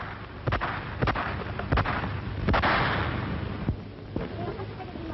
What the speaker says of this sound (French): Et soudain, claquent les premiers coups de feu.